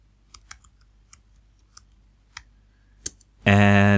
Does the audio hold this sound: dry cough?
no